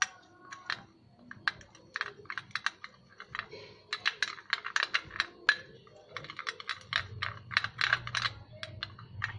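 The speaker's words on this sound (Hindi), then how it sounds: "इसे मैं अच्छे से मिक्स करूँगी" Bleach powder being stirred into aloe vera gel in a small bowl, close and alone: rapid, irregular light clicks and taps in clustered bursts, with a soft low rumble underneath toward the end.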